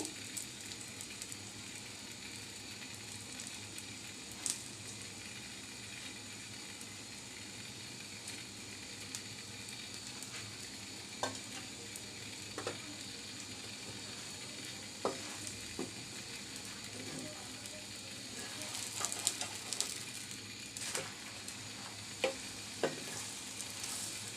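An egg paratha frying in oil on a pan sizzles softly and steadily for a long stretch, with occasional ticks and scraping from stirring or turning that grow busier near the end; no one speaks.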